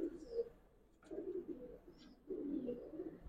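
A Giribaz pigeon in a loft gives soft, low coos in three short bouts with brief pauses between them, heard close but faint.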